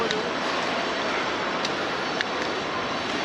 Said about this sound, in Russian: Это не водопад шумит, а это камнедровилка.